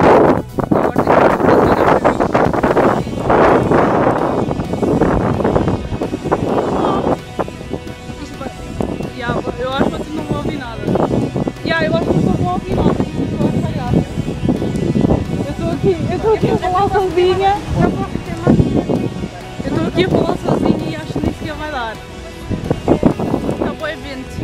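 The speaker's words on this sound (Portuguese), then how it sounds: "Está vento, mas estamos a ver." Wind gusting outdoors across the microphone on a walk, a continuous buffeting rumble running throughout, with voices talking over it.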